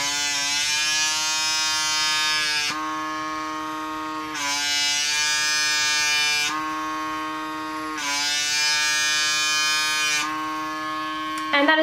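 A PMD microdermabrasion device runs on skin with a close, loud electric buzzing whine. It drops in pitch and level in repeated stretches every few seconds, and no voices are heard.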